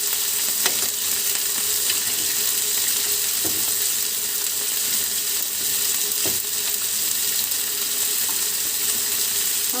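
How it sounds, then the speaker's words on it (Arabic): Steak sears in a hot pan, a loud, continuous close-up sizzle that runs unbroken from start to finish, with a few faint clicks from turning the meat. "عندي اللحمه بقى نقلبها، هي يا دوبك تاخد صدمه عندنا بس مش اكتر، بالشكل ده. تتحمر على الجنبين."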